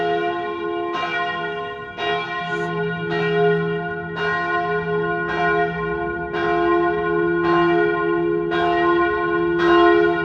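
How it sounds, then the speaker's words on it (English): A church bell in Davos, Switzerland rings over and over in a steady, loud, close peal, each strike ringing on with rich overtones, with no talk over it. "That normal time to ring the bell 200 times in a row."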